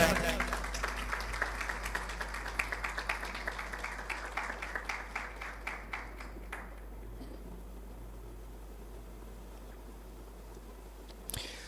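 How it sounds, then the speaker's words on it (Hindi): A church congregation claps in praise of Jesus Christ during a Hindi-language sermon on Christian marriage, a scattered round of hand claps that starts fairly strong and thins out over several seconds before fading into quiet room noise. "यीशु मसीह के लिए तालियां बजाएं"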